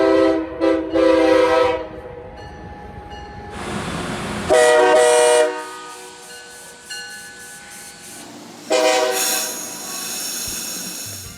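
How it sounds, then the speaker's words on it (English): Amtrak HHP-8 electric locomotive sounding its Nathan K5LA hybrid air horn in several loud chords, some short and one held, over rolling rail noise and wheel squeal as the train passes. "They came equipped with Nathan K5LA hybrid air horns."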